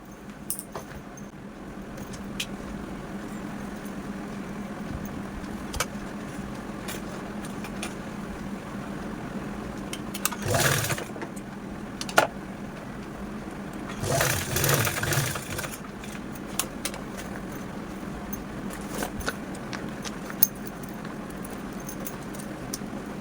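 A sewing machine stitches along the open side of a fabric bag in a home sewing setup, running as a steady low mechanical hum with a couple of brief louder bursts; no talking.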